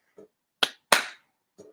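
Body percussion with chest slaps and hand claps: a soft muffled slap, then two loud sharp claps with brief ringing tails, and another soft slap at the end, close up with no talking.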